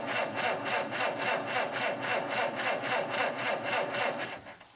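A Dodge engine cranks over on the starter in a loud, rhythmic churning pulse, roughly three beats per second, steady for several seconds before fading at the end without catching.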